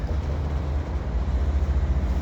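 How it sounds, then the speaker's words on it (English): A CN DPU locomotive runs at the rear of a passing container stack train, giving a steady, loud low rumble and engine drone close by for a couple of seconds. "There's the CN DPU running up the end of the train."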